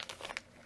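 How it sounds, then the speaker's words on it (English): A brief, quiet burst of plastic crinkling, a few crisp rustles close by. "also put this stuff in a plastic bag"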